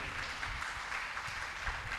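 A congregation at a religious gathering claps loudly, a steady dense wash of many hands applauding together, continuous and fairly close, with no voice standing out.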